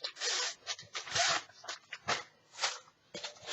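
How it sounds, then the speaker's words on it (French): A diamond painting canvas is unwrapped from its package, with a series of short crinkly rustles and tearing swipes close up, pausing between bursts. "Donc, on va la déballer."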